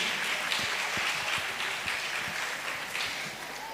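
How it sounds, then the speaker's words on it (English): Audience applause welcoming the quiz master at a school science and maths quiz competition, sustained, moderately loud clapping from a hall, with a few sharper individual claps standing out. "So with a round of applause, let's welcome Mr. Collins as he takes his seat as the quiz"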